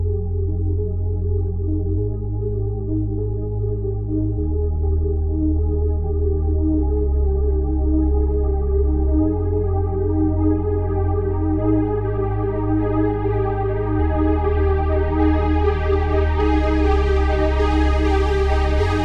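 Layered synthwave synthesizer tones with chorus, a steady pad under a bass line that shifts pitch every couple of seconds, while the cutoff filter slowly opens and brightens the sound; loud and alone with no talking.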